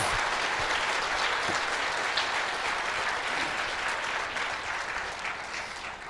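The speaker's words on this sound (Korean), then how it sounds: "Let's give all the leaders a round of applause and thanks." Sustained audience applause for the leaders at an Atomy business academy event, dense steady clapping from a large crowd that holds throughout and tapers slightly toward the end.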